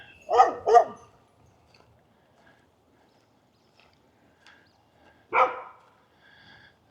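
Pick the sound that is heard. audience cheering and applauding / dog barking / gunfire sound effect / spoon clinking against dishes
dog barking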